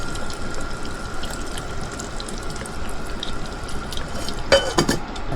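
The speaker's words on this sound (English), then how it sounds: "we're going to let those air bubbles stop coming out of the chain" A bike chain sits submerged in melted wax in a rice cooker, giving a faint, continuous low bubbling fizz with a few soft clicks and one brief louder gurgle near the end.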